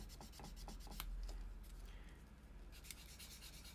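Sandpaper is rubbed over a surface in small circles, giving a quiet, close, rhythmic scratchy swish that repeats steadily without pause and has no talk over it.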